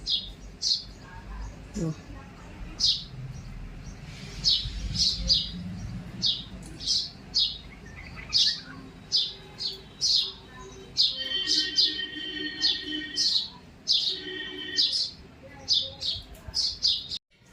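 Sparrows chirp in short, bright bursts again and again, close by, feeding from a shallow pan, with soft background noise and faint rustling.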